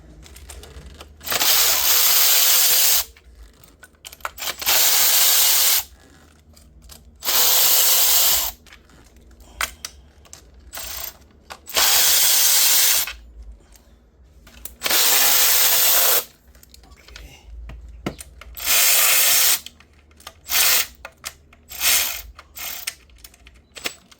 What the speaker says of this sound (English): Now let's loosen the bolts for the valve cover.